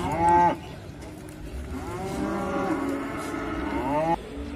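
Cattle lowing at a livestock market where herds have arrived from summer mountain pastures, with two close, loud, drawn-out moos, a short one first and then a longer one, over low crowd and market background.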